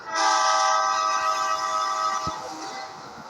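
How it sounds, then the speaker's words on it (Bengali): A train horn sounds loud and sustained over rumbling rail noise as the train slows to a stop at a station, the horn fading out near the end. "কি কালু, মনে হচ্ছে আমাদের ট্রেন দাঁড়াবে ওখানে।"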